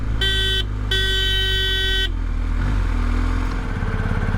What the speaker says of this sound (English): So let's see what the horn's like.